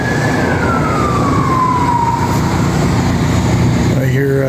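A police siren wails as it passes, a single falling tone sweeping down through steady road and traffic rumble, with a brief second siren warble at the end.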